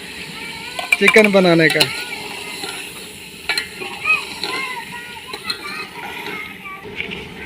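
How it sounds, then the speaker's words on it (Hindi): Tomatoes hit chicken frying in a hot pan, a brief loud sizzle burst followed by softer stirring and spatter, with a voice talking over it. "जी अब डाले जा रहे हैं टमाटर।"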